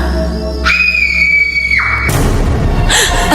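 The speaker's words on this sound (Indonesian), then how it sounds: "ada suara jeritan yang terdengar nyaring" A loud, piercing scream holds for about a second, then gives way to a noisy rumble and a brief shrill cry.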